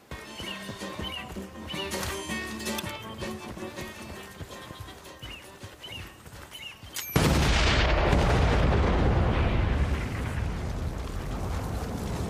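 A C4 charge detonating in Battlefield: Bad Company: game sounds and music give way to a sudden, loud, broadband blast that rumbles on heavily for several seconds.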